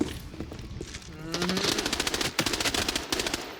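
Rapid automatic gunfire bursts in the shooter game Arena Breakout: Infinite, sharp repeated shots following a quieter opening, with a voice talking briefly.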